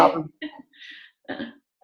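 A few short, rough coughs in a row, close and fairly loud, with brief pauses between them.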